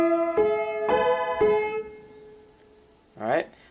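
Piano phrase from a song, three struck chords in a row with sustained ringing notes that fade, followed by a brief voice near the end.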